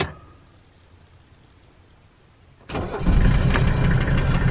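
A warm high-mileage Mercedes diesel car engine fires up after a quiet stretch, catching abruptly and settling into a loud, steady idle, close by.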